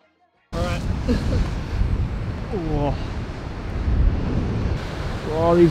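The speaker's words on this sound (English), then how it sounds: "Oh, these waves, insane." Ocean waves crash below a windy cliff top, heard as a rough, continuous roar mixed with strong wind buffeting the microphone, while a person speaks over it.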